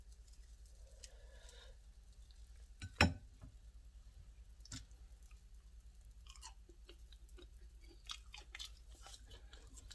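Faint chewing of a freshly made mini waffle in a quiet room, with one crisp crunching bite standing out and softer mouth sounds after it.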